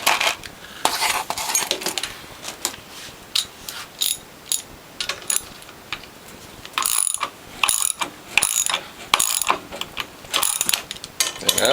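A ratchet removes the bolts holding the pump and hydraulic reservoir on a Norwalk juicer, sounding as bursts of fast, close clicking with metallic clinks and short pauses between, and no voices.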